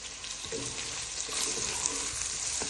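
Sausages softening in a pan with onion and garlic, giving a steady, close frying sizzle with occasional stirring scrapes throughout, no voices.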